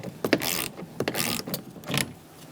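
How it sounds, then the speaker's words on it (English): A ratchet with a thin-walled 10mm socket loosens a bolt inside the rear door of a 2004-2009 Mazda 3, making a run of close, uneven mechanical clicks and scrapes. "For this bolt, you're going to need a thin-walled socket."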